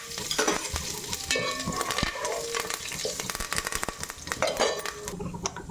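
Cumin seeds frying in oil in a pan, a busy close sizzle with frequent clinks and scrapes of a metal spoon stirring against the pan.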